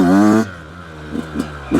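A brand new Yamaha YZ85 dirt bike, running rich and fouling plugs, revs hard in first gear, then drops to a low idle burble with a few short blips of throttle; close and loud, no talk.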